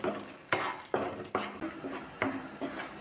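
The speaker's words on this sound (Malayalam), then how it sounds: "ഇതുപോലെ ഇങ്ങനെ ഒന്ന് രണ്ട് മിനിറ്റ് ലോ ഫ്ലെയിമിലിട്ടിട്ട് ഒന്ന് രണ്ട് മിനിറ്റ് ഇങ്ങനെ ഒന്ന് വഴറ്റിയെടുക്കാം" Ground masala paste sautéed in a pan over a low flame for chana masala, with a spoon scraping and stirring in several distinct strokes over a soft, steady sizzle, close and fairly loud, no talking.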